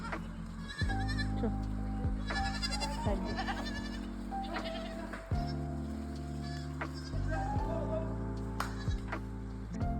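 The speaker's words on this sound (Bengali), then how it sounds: "এই দেখো হোমস্টের মধ্যে কত ছাগল কুকুর কত কিছু আছে" Goats bleat loudly and repeatedly at a hill homestay near Siliguri, with several overlapping drawn-out cries close by and brief faint talk in the background.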